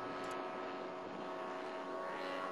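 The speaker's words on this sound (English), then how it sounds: "The plane slowly shallows from the climbing 45." A propeller-driven RC model airplane, a 3D aerobatic type, drones overhead with a steady buzzing tone, faint and distant, holding an even pitch through the pass.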